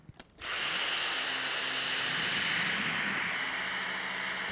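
A Dyson DC59 cordless vacuum cleaner with a V6 motor, working on a hard floor, switches on after a brief quiet moment and holds a loud, steady, high whining roar to the end.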